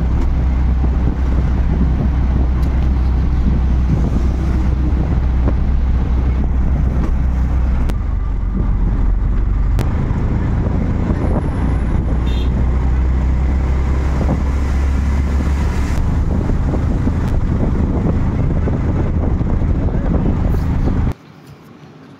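Inside an auto-rickshaw moving through heavy traffic, a continuous low engine drone and road rumble with wind buffeting, passing vehicles and brief horn tones, the noise dropping away abruptly at the very end.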